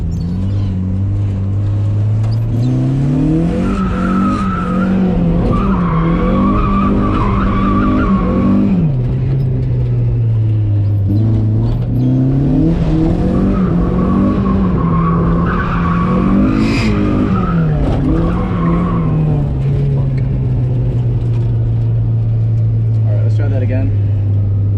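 A Mazda Miata street drifting, its engine revving and falling in long sweeping rises while the tires skid and squeal, loud and close throughout, with talk over the top.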